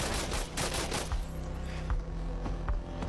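Rapid gunfire rattles in close bursts during a tense three-on-one fight in the mobile shooter Arena Breakout, loud and sharp over a dense layer of game noise, with no talking.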